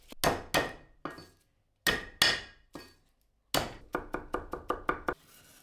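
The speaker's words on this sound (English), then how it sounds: "Chop 3 cloves of garlic." A knife chops three garlic cloves on a cutting board: a few spaced, crisp thwacks, then a quick run of about eight sharp strikes near the end.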